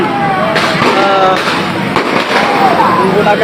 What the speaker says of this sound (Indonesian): ini petasan begitu untuk menyerang kelompok warga